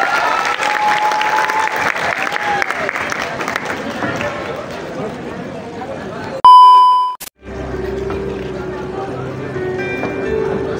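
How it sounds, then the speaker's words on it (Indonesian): An audience at a school graduation farewell ceremony applauds in a dense, loud burst of clapping for about six seconds, followed by an electronic beep and quieter room sound with voices. "Beri tepuk tangan yang meriah."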